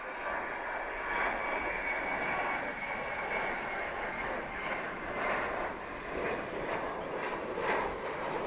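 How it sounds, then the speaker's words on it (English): American Airlines Boeing 737-800 taking off at DFW International Airport, a steady, broad jet engine roar that holds for the whole stretch at moderate distance, with faint voices underneath. "737-800 flight 2659. It took off kind of low."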